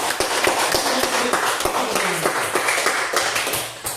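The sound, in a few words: group clapping hands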